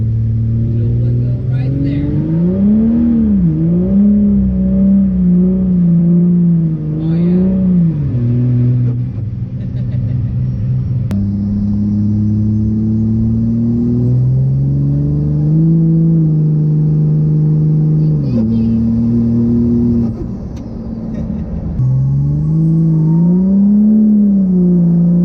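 A Cummins diesel truck fitted with a new S472 turbo revs repeatedly, rising and falling through several loud, close bursts with steady idle between.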